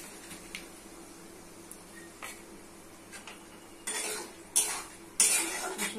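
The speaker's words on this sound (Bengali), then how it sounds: "মশলা কষা হয়ে গেছে, দিয়ে দিচ্ছি মসুর ডাল" Red lentils tipped into a pot of fried spices and dried shrimp, giving soft pouring rustles and a few sharp clinks of a spoon against the pot, louder toward the end, with no talk.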